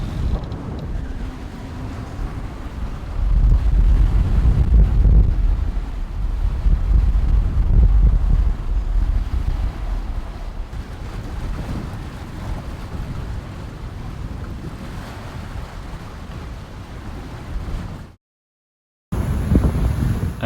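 Strong wind roars steadily across the microphone on a sailing boat, with rumbling gusts and water rushing beneath, briefly cutting out near the end before resuming.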